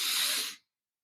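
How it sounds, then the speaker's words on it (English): A slow inhale through the mouth as part of 4-7-8 breathing makes a close, airy hiss lasting about half a second before cutting off into silence. "So it is a 4-second inhale"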